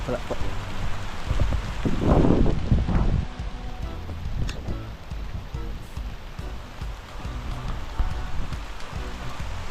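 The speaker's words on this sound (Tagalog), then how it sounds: "ang lakas ng ulan doon oh" Steady heavy rain hisses throughout, with a louder burst of movement or gusts early on and faint voices partly buried beneath the downpour.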